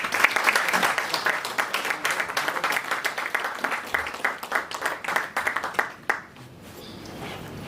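Audience applause at an agricultural and trade event, a dense wash of many clapping hands that fills the room, then fades out near the end into quieter room noise.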